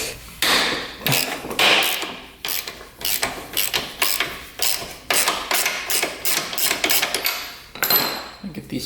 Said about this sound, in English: Get these tensioners loosen up. Just turn these out.